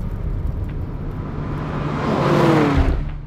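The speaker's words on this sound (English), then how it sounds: "you can now hear the exhaust a lot better than you could in the standard car" A Lamborghini Urus Performante SUV engine hums, then builds into a louder rising exhaust note that peaks and fades slightly, heard close with no talking.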